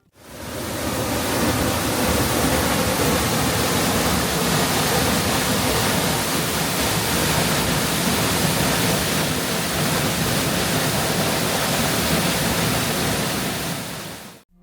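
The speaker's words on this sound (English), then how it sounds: "The waterfall was stunning, and on a lower level it is possible to walk behind the torrent" A powerful waterfall torrent in Switzerland roars as a steady, dense broadband rush, loud and continuous from start to finish with no voices.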